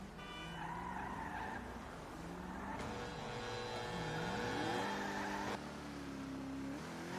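A car in GTA 5 skids and squeals its tyres with the engine revving in repeated surges, loud and close, with shifting tire screeches and a gear-like pitch change near the end.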